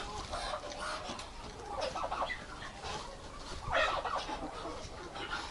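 Soft gobbling calls from turkeys come in short bursts over a quiet winter farmyard background, fairly close but not loud.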